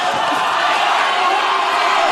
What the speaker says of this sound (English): The crowd is very noisy here at Metro City, Perth, Western Australia.